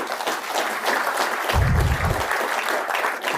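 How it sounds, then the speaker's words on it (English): An audience at the Halifax International Security Forum applauds a defence announcement, steady dense clapping with a brief low thump midway, moderately loud and without talk. "that was our Halifax area MPs who were applauding first"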